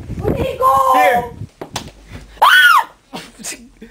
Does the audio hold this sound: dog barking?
no